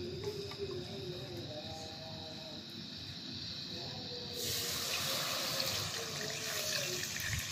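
Water from a bowl is poured into a pan of lightly fried cumin and ginger, making a continuous close splashing and filling rush that grows fuller partway through.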